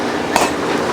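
Hammer blows ring out on an iron piece being forged to a point in a blacksmith shop, two sharp metallic strikes over a steady workshop din.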